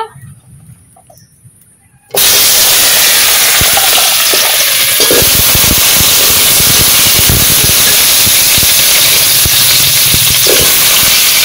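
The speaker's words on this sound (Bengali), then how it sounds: "তেল গরম হয়ে গেছে, এখন আমি কেটে ধুয়ে রাখা আলু আর কচুরমুখী দিয়ে দেব।" Cut potatoes and taro corms drop into hot oil in a wok and burst into a loud, continuous sizzle and hiss after a brief quiet moment, with faint stirring beneath.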